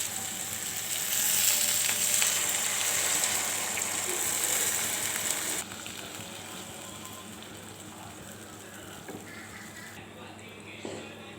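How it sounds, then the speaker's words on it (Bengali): Water poured into a pan of frying pointed gourd curry with potato, a loud hissing sizzle for the first half that drops abruptly to a quieter bubbling simmer, with a voice talking underneath. "এখন দিয়ে দিব জল।"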